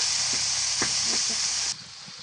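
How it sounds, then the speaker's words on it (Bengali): Small mola fish fry in hot mustard oil in a kadai, giving a close, loud, continuous sizzle with a few soft stirring knocks before the sound drops away abruptly near the end. "যে মাছগুলো আমি ভাজি করে নিব"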